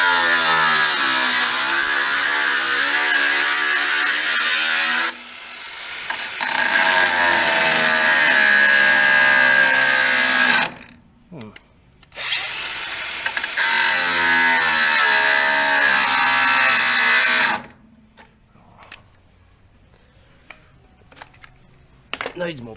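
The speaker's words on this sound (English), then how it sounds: "needs more petrol in the grinder." A petrol-powered grinder cutting metal on an HT Holden during a budget build, a loud, high whining buzz in three long bursts with short pauses, then quiet clinks and handling noises.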